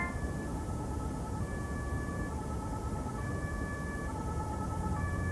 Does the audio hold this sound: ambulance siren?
yes